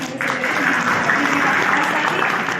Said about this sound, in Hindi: सबसे पहले जोरदार तालियों के साथ स्वागत करेंगे